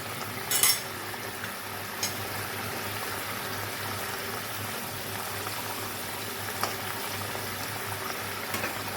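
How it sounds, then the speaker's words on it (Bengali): Rui fish curry (thin jhol) bubbling in a pot on a gas stove, a steady low simmering hiss with a few faint clinks of a spoon or utensil, heard alone without talk. "মাছের ঝোল আমার ফুটে গেছে।"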